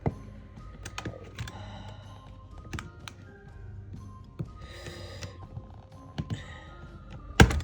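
Plastic Wiremold raceway is cut while still mounted on the wall during a home electrical installation, producing irregular close clicks, taps and short scraping bursts, with louder rasping spells near the middle and end.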